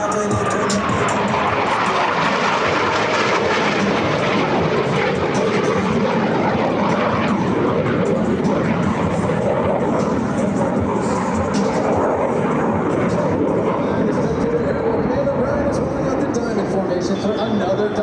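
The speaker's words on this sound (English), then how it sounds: "each pilot will perform an individual brake turn and exit the flight line in a separate direction" US Navy Blue Angels jets performing an air show manoeuvre at the Wings Over South Texas show, a continuous loud roaring engine rush that holds steady for the whole stretch, with an announcer talking over it.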